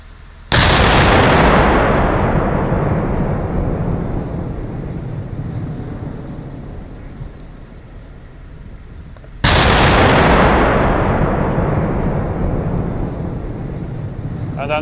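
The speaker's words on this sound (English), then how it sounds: "then we can fire 4 or 6 rounds or whatever the fire mission says" A Swedish Archer self-propelled artillery system fires two rounds about nine seconds apart, each a loud, close blast that rolls into a long, slowly fading rumble.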